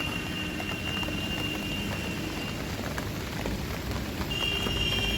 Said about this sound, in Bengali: এখন খুবই জোরে বৃষ্টি পড়ছে